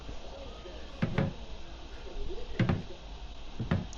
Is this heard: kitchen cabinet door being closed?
yes